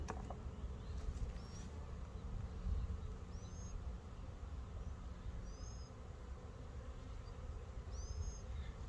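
Honey bees hum steadily around a hive at an outdoor out yard, a soft, continuous buzz with a few faint, high bird chirps in the distance.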